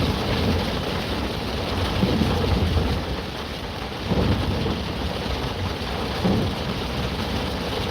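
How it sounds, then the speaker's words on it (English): Heavy rain pours steadily on a vehicle while driving, a dense, loud hiss with low rumbles of thunder swelling underneath at intervals. "A lot of heavy rain in a very short amount of time."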